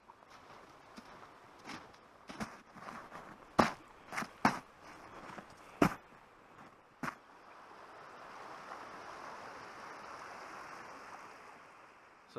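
Coral Creek in winter flows with a soft, steady rushing murmur that settles in after a run of sharp, irregular crunching and knocking sounds close by, with no voices.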